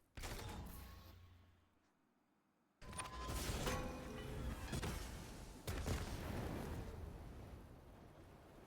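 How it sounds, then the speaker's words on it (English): A Titan super strikes in the Destiny video game, producing heavy booming blasts and crackling impacts. A loud burst comes after a brief quiet gap, then a second surge follows, with rumbling debris-like noise in between. "Plus explosion."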